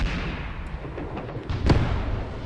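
Mortar barrage in the video game Graviteam Tactics, heard as a low, rumbling wash of distant impacts with a heavier thump near the middle, steady and without talk.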